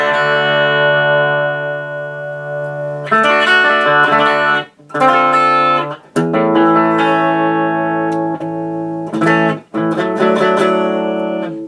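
Overdriven electric guitar run through a homemade harmonic vibrato and spring reverb circuit, played loud and alone as sustained distorted chords with a few short breaks between strums.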